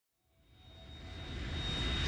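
A Harrier jet engine in the video game Metal Gear Solid 2, a rising roar that fades in from silence and swells steadily louder, with a thin high whine above it.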